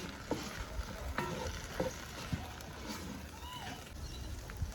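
Onions sizzle and lightly brown in oil in a camp oven while being stirred for mutton paya, giving a steady frying hiss with scraping stir strokes and a voice talking faintly over it.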